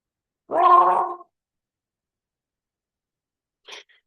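A short burst of bubbling, throaty gargling, close and alone, followed after a pause by a faint brief sound.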